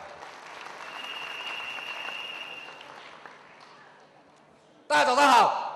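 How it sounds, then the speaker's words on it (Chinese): A large audience at a regional awards and commendation assembly breaks into a sudden loud burst of applause right at the end. A quieter murmuring stretch comes before it. "掌声鼓励一下"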